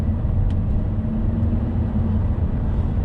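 A Volvo S80 saloon's engine hums steadily at low revs, a continuous low drone heard from inside the cabin with no pauses or talk.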